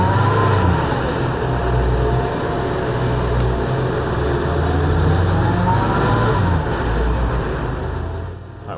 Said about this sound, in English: let's give it some revs.